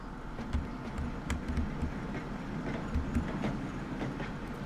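Train pulling into a station in the railway game Transport Fever, a steady low rumbling roll with faint rhythmic clacks of wheels over rail joints, moderately loud and unbroken, with no talking.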